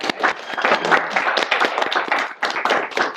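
An audience breaks into lively applause, a thick run of overlapping hand claps in quick bursts that stays loud and close throughout.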